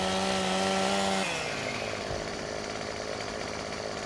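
Chainsaw in Farming Simulator 15 revs with a steady whining engine tone, then drops into a rough, gritty buzz as it bites into wood, loud and continuous throughout.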